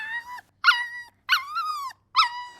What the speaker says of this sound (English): he just yelped.